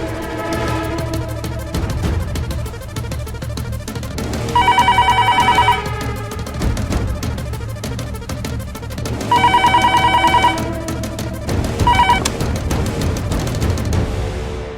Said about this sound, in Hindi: ठीक है, मैं फोन करता हूँ।